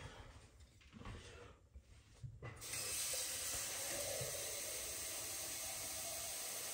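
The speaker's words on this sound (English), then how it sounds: "Now we're going to add water basically to cover" Water poured into a pan of Spanish-style pepper steak, faint at first, then a steady hissing rush that starts abruptly partway through and continues evenly to the end, with no talking.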